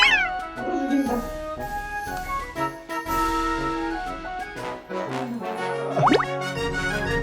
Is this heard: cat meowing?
yes